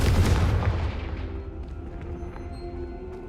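Fiery Confringo spell blast in Hogwarts Legacy, a loud booming burst followed by a rumbling roll that tapers into a lingering low crackle over a few seconds.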